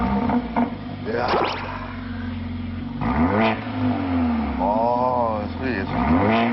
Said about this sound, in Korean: 과연 이 4기통 2000cc 엔진에서 이런 배기음이 나올 수가 있나?